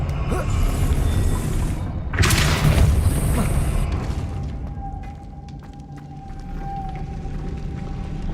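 A Depulso spell impact in Hogwarts Legacy on PS5 lands as a loud, deep boom with a rushing burst, then fades into a low rumble and a lingering tone.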